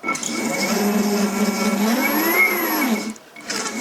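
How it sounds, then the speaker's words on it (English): An Armortek brushless drive motor from a one-sixth scale Panzer IV motion pack whirs steadily on the bench, a loud tonal whine that rises and dips in pitch before cutting out near the end. "So let's try the right hand motor."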